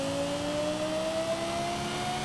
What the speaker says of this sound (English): He put the LFA engine in this thing, I just realized.